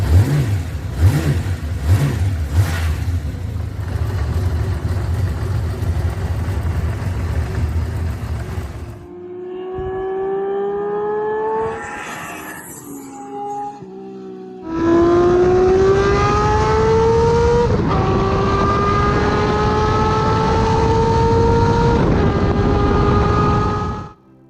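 A Honda CBX 1000 six-cylinder motorcycle engine revs loudly and close. After a rough, noisy stretch, its smooth, rising howl swells through several long climbs before cutting off.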